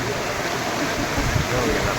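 Floodwater from a swollen river rushes in a steady, close roar, a broad continuous wash of flowing water with a faint voice underneath.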